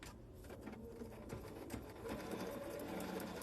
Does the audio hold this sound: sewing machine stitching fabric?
yes